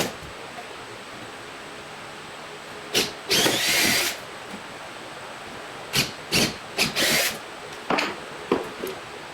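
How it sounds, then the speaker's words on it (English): Power drill boring holes in wood for T-nuts on a table saw dust collector box, several short whining bursts of varying length separated by pauses, close and fairly loud over quiet room background. "get the rest of these drilled out"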